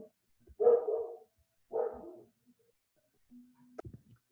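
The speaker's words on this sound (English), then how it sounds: "Dogs were barking." Dogs bark twice nearby, two distinct barks about a second apart in an otherwise quiet room, followed by faint scattered thumps and a short tone.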